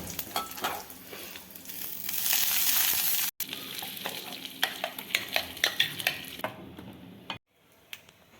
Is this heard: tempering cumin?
yes